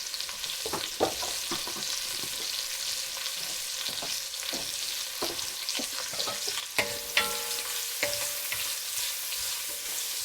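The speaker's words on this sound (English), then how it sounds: "I'm giving it a bit of a stir to break up the onion slices" Onion slices fry and sizzle in a pan, stirred with repeated scraping and clinking strokes, close and steady with no talking.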